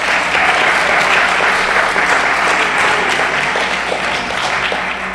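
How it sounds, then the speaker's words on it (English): A large audience at a California climate change event claps steadily, producing dense, loud, sustained applause for several seconds without letting up. "I need you to applaud for yourselves."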